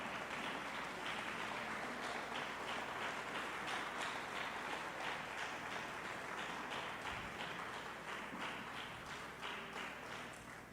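A church congregation applauding together, a sustained patter of many hands clapping, faint and distant throughout the stretch.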